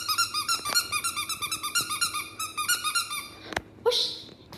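A small dog whimpers and squeaks in a rapid series of high, whiny cries close up, followed by a sharp snort and a breathy huff near the end.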